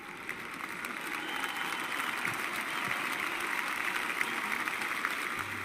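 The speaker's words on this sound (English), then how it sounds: "And the crowd just love it." A crowd at the final of the 2006 World Team Judo Championships between Russia and Georgia claps after a throw, a sustained, fairly faint wash of applause that holds steady with no voices on top.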